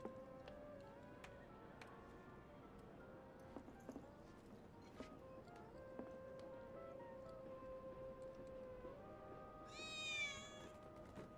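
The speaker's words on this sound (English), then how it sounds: "I think one of Betty's cats might be nearby." Cat meows close by in Final Fantasy VII Remake, a brief cluster of high-pitched calls near the end over steady game ambience with faint ticks and clip-clop-like taps.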